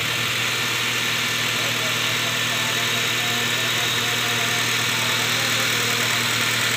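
A 2006 Honda Jazz engine idles at about 800 rpm, a steady, close, even hum with a faint mechanical tick running underneath. It stays constant and unbroken for the whole stretch, with no talking over it.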